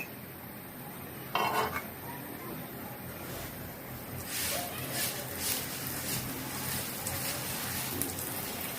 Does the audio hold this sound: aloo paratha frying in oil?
yes